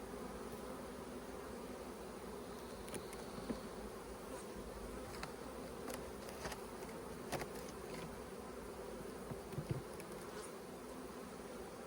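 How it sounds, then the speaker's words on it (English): Honey bees buzzing at an opened hive during a split, a dense, continuous drone of many insects close by, steady and fairly soft throughout with a few faint clicks and knocks. "move all these bees off the edge here."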